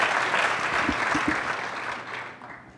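A conference crowd applauds a photographer's portraits, a dense wash of clapping that stays loud and then tapers off toward the end.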